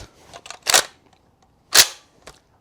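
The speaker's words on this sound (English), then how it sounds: "I'm going to go ahead and shoot a little bit more" An M14 rifle fires cheap .308 Winchester ammunition outdoors, with two sharp loud reports about a second apart and smaller clicks and handling noises between them, no talk.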